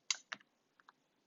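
Calculator keys pressed in a quick, sharp pair of clicks, then two softer taps after a pause, close and dry with no voice over them.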